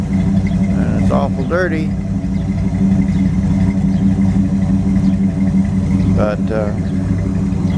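A 1929 Chrysler engine idles outdoors in the sun with a steady, close, low rumble throughout, while someone talks briefly over it.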